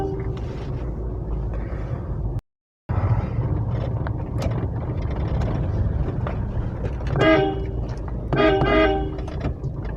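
Car horns honk in short repeated bursts on a street amid loud, steady traffic and engine rumble from a Mahindra Scorpio 2.2-litre diesel, with a brief gap of silence early on.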